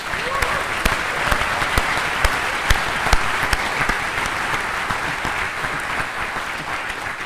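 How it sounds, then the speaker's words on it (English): Applause for mothers in the audience at a spring graduation ceremony, a full, loud burst of clapping from a large crowd with a few sharper individual claps standing out, continuous across the stretch. "Let's have a round of applause for all mothers in the room first."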